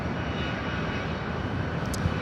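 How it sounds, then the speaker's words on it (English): Boeing 787 Dreamliner arriving at Los Angeles airport from Haneda, a brief steady engine rumble at moderate level with no voices. "This Dreamliner coming in from Haneda"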